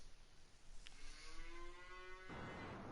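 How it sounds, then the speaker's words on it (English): A single long cow moo with a rising, steady drawn-out tone from the PS4 video game No Man's Land, set over a constant hiss of background ambience. "I can hear the cows moving in the background."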